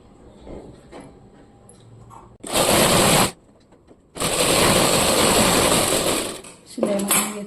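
A sewing machine stitches a blouse with four tucks, running in two loud, fast, whirring bursts, one short and one longer, separated by quieter handling and followed by a brief mechanical clunk; no voices.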